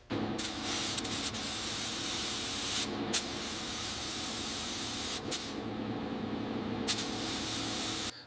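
Continuous airbrush-style spray hiss of primer being applied to a 1918 Dodge Brothers Touring car, running steadily and close with a few brief pauses, no voices.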